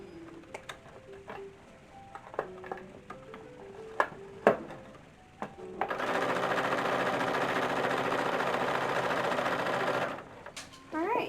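A sewing machine stitches a bodice seam on an 1850s-style summer ensemble, running in one sustained burst of several seconds after scattered clicks and handling taps.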